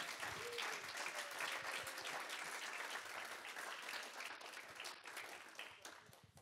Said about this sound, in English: So a big round of applause to you.